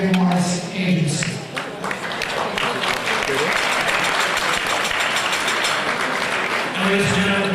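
Audience applause for the sponsors at an evening charity art auction in a Beverly Hills hotel ballroom, a dense, steady clapping from a large crowd that fills the whole stretch with a few cheers mixed in.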